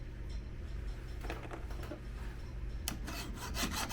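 A hand file rasps across the depth gauges of a chainsaw chain in two bursts of quick repeated strokes over a steady low background hum.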